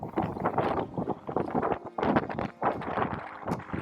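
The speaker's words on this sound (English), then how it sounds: "It's just too windy today." Strong gusty wind buffets the microphone in loud, rumbling bursts that rise and drop irregularly.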